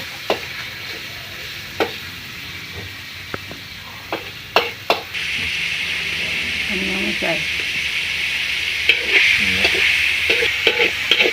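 Bamboo shoots being stir-fried in a pan for Isan-style bamboo shoot soup, a steady close sizzle with occasional sharp clinks of the utensil against the pan and a voice speaking now and then.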